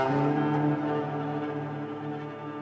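A sustained bowed guitar tone with rich overtones, washed in Black Hole reverb, slowly fading while holding one long droning note.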